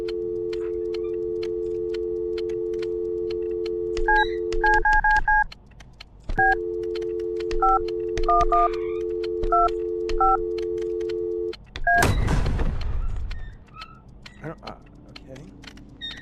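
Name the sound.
telephone dialing tones from a video game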